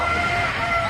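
A native chicken, a Brahma rooster, clucking in a short, close burst of throaty calls with no talk over it.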